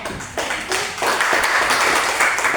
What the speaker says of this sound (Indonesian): tepuk tangan buat Raja.